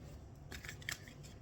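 A card drawn from an angel card deck during a tarot-style reading, a short papery swipe and shuffle of cards near the middle, faint against a low steady background hum.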